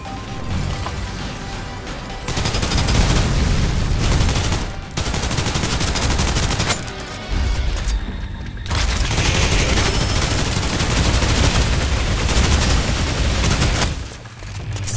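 Dense, sustained automatic gunfire with impacts and crashes in the Snowbreak: Containment Zone video game, loud and nearly continuous with a few short pauses between bursts, no talking.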